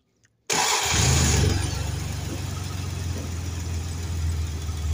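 A Dodge Dakota pickup truck engine with a damaged water pump cranks and catches after a brief silence, then settles into a steady, close idle with a low rumble.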